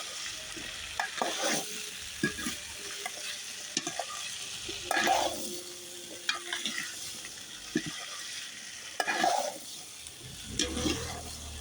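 Potatoes frying in hot oil with panch phoron, a soft sizzle broken by repeated bursts of scraping and stirring in the pan, moderately close and fairly quiet.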